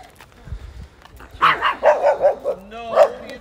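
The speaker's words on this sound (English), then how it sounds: "Oh, there's the dogs again." Dogs bark several times in quick succession, fairly close, with a few higher yips mixed in after a quiet start.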